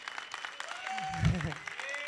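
Audience applause at a film press meet, a steady wash of clapping through the clip with a brief louder swell near the middle, mixed with background chatter and noise.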